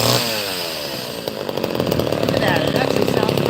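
Chainsaw engine running steadily and loud throughout, an older saw checked for its chain, with a buzzing two-stroke drone that grows slightly rougher and louder toward the end while a voice talks faintly underneath.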